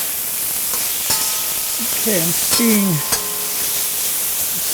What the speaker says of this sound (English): put the lid back on, and that steam will finish cooking those green beans for me